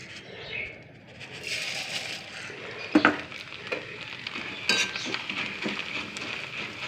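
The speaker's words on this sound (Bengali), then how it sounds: "তো আজকে আমি সাবুদানা ভাজবো" Sago (sabudana) frying in hot oil, a steady crackling sizzle with occasional sharp metal clinks and stirring scrapes from a pan, close and moderately loud.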